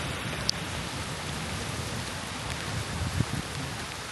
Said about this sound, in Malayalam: മഴ മാറാൻ ലക്ഷണമില്ല.